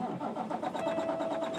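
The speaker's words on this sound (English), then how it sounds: "start my truck back up" A truck's engine cranks and fires up in the cab during an in-cab inspection, then settles into a steady mid-pitched idle, close and continuous with no talk over it.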